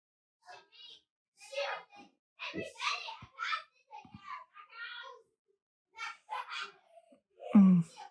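Children's voices chatter and call out in short bursts, with a louder shout near the end; the sounds come in uneven spurts with pauses between.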